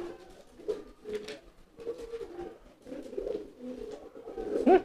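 A pigeon coos loudly in repeated low, throaty bursts, close and clear, with short pauses between phrases and a stronger call at the end.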